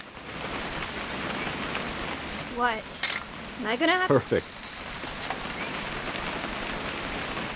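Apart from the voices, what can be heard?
rain falling in video game What Remains of Edith Finch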